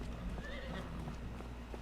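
Horses in the Farming Simulator 25 video game neigh and whinny faintly over a steady low background with soft clip-clop of hooves.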